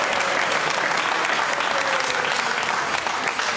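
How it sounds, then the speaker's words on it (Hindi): Dense, loud applause from a crowd of devotees at the samadhi of Srila Haridas Thakur, honouring Russian devotees, sustained and even throughout. "इनके जोरदार ताली बजा दो"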